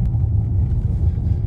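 Mercedes E 300 de E-Class estate plug-in hybrid, 225 kW, rolling over cobblestones in a 30 km/h zone, heard from inside as a steady, close, low rumble with a constant uneven texture and no talk.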